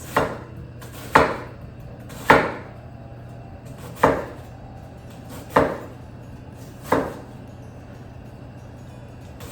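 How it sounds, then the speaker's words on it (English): A knife chops onion into small pieces on a board, six sharp, evenly spaced strikes ringing out close and loud over a low steady hum, with no talking. "And then the onion will just get cut into really small pieces."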